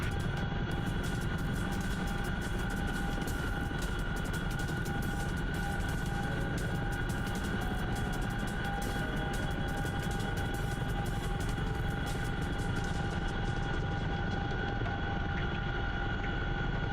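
Helicopter in the DCS World flight simulator game, a steady engine and rotor drone with a constant whine, holding level and loud throughout without talk.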